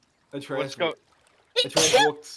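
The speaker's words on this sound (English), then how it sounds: "Bless you." A single quick sneeze bursts out among people talking around a table, a short sharp blast right after a spoken phrase.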